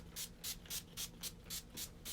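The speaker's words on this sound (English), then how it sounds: "spray my face" NYX setting spray is pumped onto a face in about eight quick, evenly spaced hissing spritzes, close and fairly soft, with no voices.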